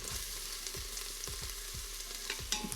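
Green onions, ginger and garlic sautéing in hot oil in an Instant Pot on high sauté mode, a soft steady sizzle broken by repeated light stirring scrapes and taps.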